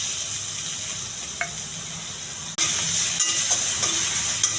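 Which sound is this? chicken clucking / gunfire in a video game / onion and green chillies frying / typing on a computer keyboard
onion and green chillies frying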